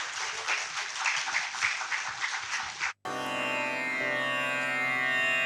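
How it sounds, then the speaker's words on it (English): An audience at a book launch applauds to welcome a singer on stage. The dense, lively clapping lasts about three seconds and cuts off abruptly, giving way to sustained instrumental music. "Please give her a round of applause."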